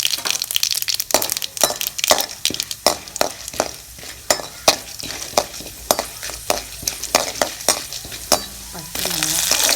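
Mustard seeds and urad dal frying and popping in a hot pan, a steady run of sharp crackling pops over a soft sizzle, close and fairly quiet, with no talking.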